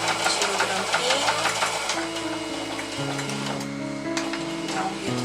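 A sewing machine runs steadily, stitching a seam on a fabric doll carrier with a fast, continuous mechanical whir and rattle. Its pitch shifts partway through, without a break.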